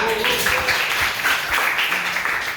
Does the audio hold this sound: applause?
yes